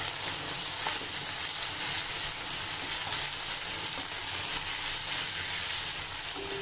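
Chopped tomatoes go into a prawn curry pan, which gives a steady, dense sizzle throughout, constant and moderately close with no voices.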